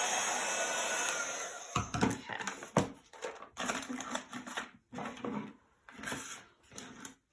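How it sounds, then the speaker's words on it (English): Heat gun melting embossing powder on a stamped card image: a steady close blowing hum for nearly two seconds, then stop-start bursts of blowing with clicks and handling noise between them. "just moving the heat gun over the image when you can see that powder melt and change"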